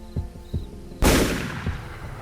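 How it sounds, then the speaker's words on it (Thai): A single sharp, loud gunshot cracks out and rings into a decaying echo, preceded by a few soft thumps. "เสียงปืนพันแผดดังกึกก้องสถานคุงน้ำพงไพหนึ่งนัด"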